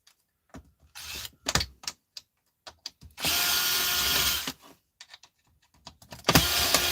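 Screws are backed out of a metal item with a power driver, heard as one sustained whirring run between scattered clicks and handling knocks, followed by a second short burst near the end.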